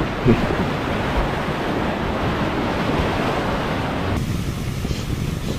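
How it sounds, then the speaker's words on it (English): Ocean surf breaks and washes continuously, with broad, steady noise of waves and wind buffeting the microphone, loud and close, and no speech. "Oh, right out into the ocean."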